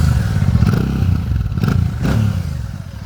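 Motorcycle fitted with a sidecar starting up and idling close by, a loud continuous low engine rumble with a few clattering surges and no talking.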